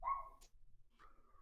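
Ethan's small dog barks a couple of quick, faint yaps in a quiet room, with short gaps of near silence between them.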